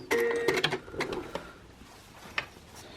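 A sewing machine stitching elastic onto a fabric face mask, a short burst of quick mechanical whirring and clicking that stops, followed by a few faint handling clicks.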